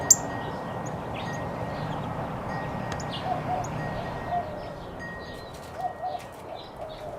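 Birds in an outdoor setting give scattered faint chirps and soft coos over a steady wash of background noise, with an occasional flutter.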